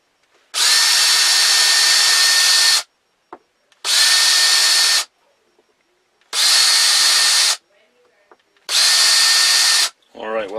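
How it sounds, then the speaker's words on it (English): A power drill bores holes into a skinning knife's handle scale in four separate loud, steady bursts of whine. Short quiet gaps separate the bursts, with faint handling noises between them. "now I'm just going to drill the next one here"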